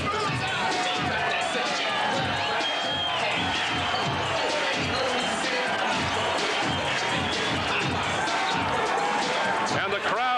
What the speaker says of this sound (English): the crowd saluting Evander Holyfield